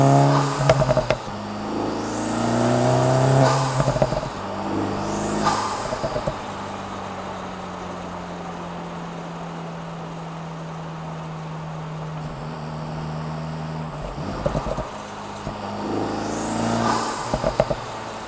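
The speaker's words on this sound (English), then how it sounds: "a microphone right near the exhaust, picking up the exhaust and those pops and bangs and burbles from the factory" A Honda Integra Type S with a near-exhaust microphone gives several engine rises and falls, with rev swells around the start and a sustained steady drone through the middle, plus sharp pops and crackle on the decel moments; no voices.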